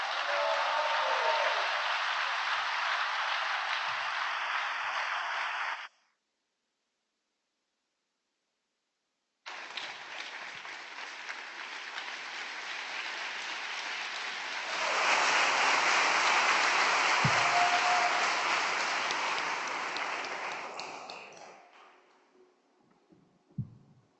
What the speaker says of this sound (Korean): 우리 엘리엇 오에다를 큰 박수로 모시겠습니다